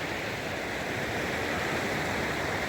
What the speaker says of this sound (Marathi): आणि त्यामध्ये डोंगराच्या मधून ही नदी वाहते